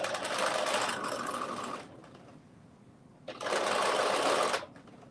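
A sewing machine stitching a dress seam with a 5/8 inch seam allowance, running in two close, loud bursts of fast whirring separated by a short quiet pause.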